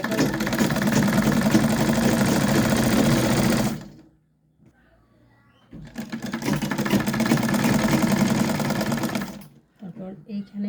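A sewing machine stitches the side seam of a garment in two long, loud, continuous bursts of rapid mechanical whirring. A short pause separates the bursts, with a voice speaking quietly during the gap.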